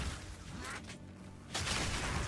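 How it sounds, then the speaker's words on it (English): Spell explosions in the video game Path of Exile 2 form a dense, noisy wash of booming bursts. A brief dip leads into a louder, brighter surge of blasts, and no one speaks. "Those are the explosions we love to see."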